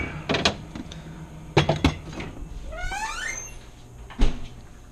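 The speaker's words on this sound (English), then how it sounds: "Squeaky door." A squeaky kitchen door or cupboard swinging open while someone cooks lasagna, giving one rising, creaky squeal in the middle, framed by several sharp knocks and clunks of handled objects.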